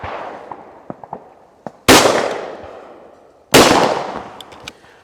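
Two loud, sharp shotgun blasts ring out close by about two seconds apart, each with a long decaying echo, and smaller clicks and taps are heard in between.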